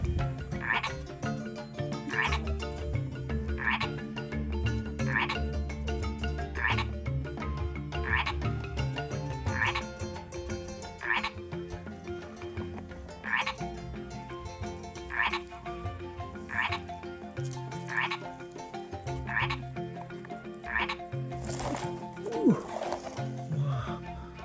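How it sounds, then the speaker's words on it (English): A big frog croaks in the wild, repeating a loud, regular croak about every second or so over a dense background of outdoor noise, with a person's voice briefly heard near the end. "Big frog."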